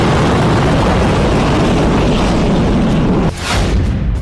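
Iranian dancing missile strike explosions roar as one dense, continuous loud rumble with a brief dip and another blast-like burst near the end.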